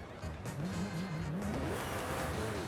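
Koenigsegg Jesko hypercar in Forza Horizon 5, a continuous engine drone with rising pitch as it accelerates, loud and sustained, with faint game sounds around it and no speech.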